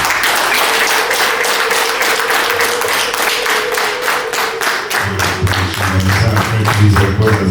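Wedding guests clap in a loud, even, rhythmic beat that carries on throughout, with a low droning sound joining beneath the clapping during the last few seconds.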